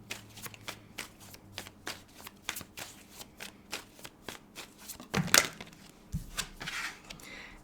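Tarot cards being shuffled by hand in a quiet room, giving a steady run of soft riffling flicks, followed by a brief louder snap and rustle as cards are drawn.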